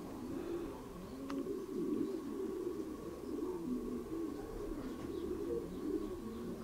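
Pigeons in a loft give a steady, low, rolling cooing that continues throughout, moderately loud and close, with no talking.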